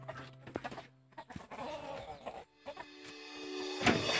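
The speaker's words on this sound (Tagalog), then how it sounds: "Ito pala yung manok niya." Chickens cluck and squawk in short bursts close by, with rustling and clatter around them.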